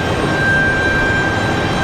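A regional airliner departing Raleigh Durham airport on a windy day, heard as a loud, steady jet roar with a thin high whine running through it, no talking.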